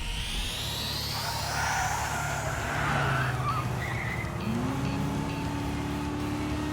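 A turbocharged race car in a video game roars continuously while its tires skid and squeal, the engine pitch climbing steadily with a rising turbo whine toward the end.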